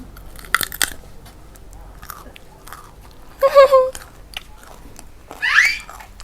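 Two crisp, loud crunches of biting into firm raw fruit, a few seconds apart, with faint chewing and light background noise between them.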